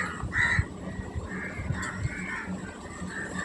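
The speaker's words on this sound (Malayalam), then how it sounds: "കാക്കകൾ ഇവിടെ നോട്ടം ഇട്ടിട്ടുണ്ട്." Crows caw outdoors in a few short, harsh calls spread across the moment, moderately distant against quiet background noise.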